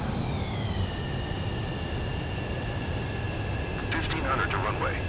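Jet fighter on approach to a runway in Ace Combat 7: Skies Unknown, a steady close engine roar with a whining tone drifting down, radio voices talking over it.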